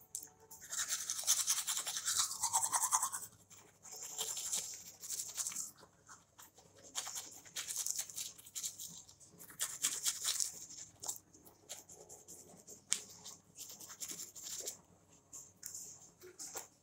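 Teeth are brushed with a toothbrush in close, scratchy bursts of bristle scrubbing, pausing briefly between strokes, fairly quiet.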